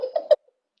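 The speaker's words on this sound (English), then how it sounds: "You can hear the parrots" A brief burst of squawking bird calls, a few short raspy notes in quick succession, then silence.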